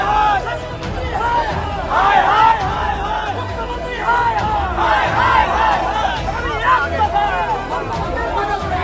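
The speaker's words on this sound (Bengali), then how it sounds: "রাস্তায় বসেই তারা স্লোগান দিতে থাকেন" Women's wing protesters of the BJP sit on a road and chant slogans, a dense crowd of voices rising and falling in rhythmic calls, loud and close, with general babble underneath.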